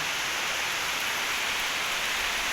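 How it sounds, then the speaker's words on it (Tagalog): Heavy typhoon rain pours down in a steady, dense hiss with no breaks, loud and close, and no voices, in Manito, Albay, Bicol, Philippines. "tingnan mo at lakas ng ulan"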